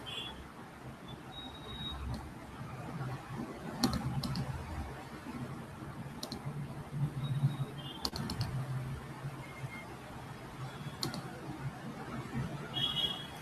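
Mouse clicks while editing a Microsoft Word document come as sharp, sparse ticks spread over the stretch, set against a low, steady background hum with some faint keyboard-like tapping.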